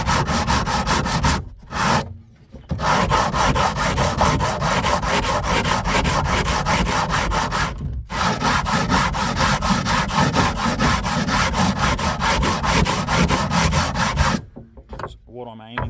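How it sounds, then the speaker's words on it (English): Sanding the top limb of a wooden recurve bow, a loud continuous rhythmic rasping rub with a couple of brief pauses, close by and with no talking. "So I've just got to sand it"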